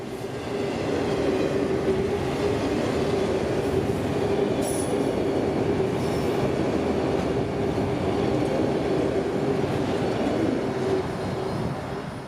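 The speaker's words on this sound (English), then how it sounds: "This train started the morning in Winston Yard with these rock hoppers and now is running north about 60 miles into Wildwood and the yard there." A CSX freight train hauling rock hoppers rolls north in a steady, loud rumble of wheels and cars, with a sustained rail hum and a brief wheel squeal partway through, and no voices.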